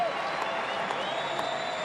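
A stadium crowd at a Red Sox versus Twins baseball game claps and murmurs in a steady, moderately distant wash of applause with a few faint whistles, no clear voice standing out.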